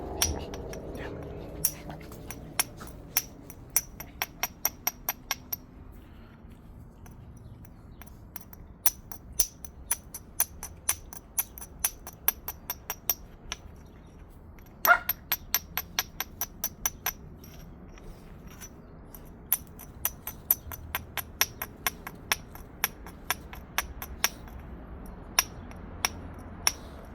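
A hammer knaps a glass ingot made in a microwave kiln, producing repeated sharp glassy clinks in irregular bursts and rapid runs over a quiet background.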